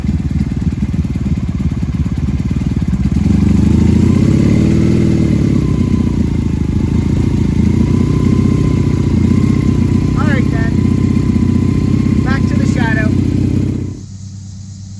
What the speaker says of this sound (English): shut down the Magna so we don't have all that noise in the background